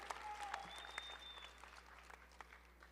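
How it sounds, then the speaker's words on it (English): Audience applause at a 2019 adult education GED graduation ceremony for Pima Community College, faint scattered clapping heard from a distance, tapering off, along with a brief high tone near the start. "Can we get a round of applause for that?"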